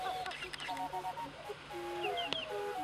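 Several chickens in a coop cluck and murmur in short, scattered calls, some sharper squawks among them, fairly close with faint voices in the background.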